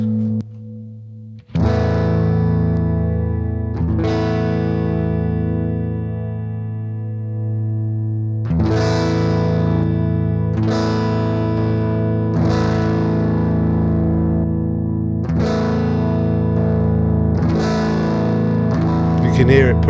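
Electric guitar, a PRS SE Chleo with Floyd Rose, through a clean boost pedal pushing a valve amp: loud, slightly driven chords struck repeatedly and left to ring and sustain, up close.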